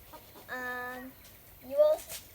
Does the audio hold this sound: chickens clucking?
yes